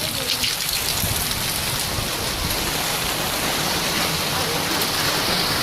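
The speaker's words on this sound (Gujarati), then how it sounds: "વરસાદ ચાલુ છે" Steady heavy rain pours down outdoors during a thunderstorm, a dense, even hiss of drops striking surfaces that stays loud and unbroken throughout.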